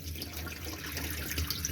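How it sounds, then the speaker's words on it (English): Hot water running from a tap in an Elddis Chatsworth 462 caravan, a steady close splashing stream with no voices. "and lovely hot water coming through now."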